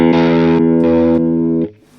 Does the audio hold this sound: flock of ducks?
no